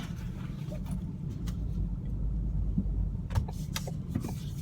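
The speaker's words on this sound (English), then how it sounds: "I'm just gonna back out slowly here because we're in a garage." Low engine hum of a 2016 Ford Focus creeping slowly in reverse inside a garage, steady and fairly quiet, with a few light clicks and rattles toward the end.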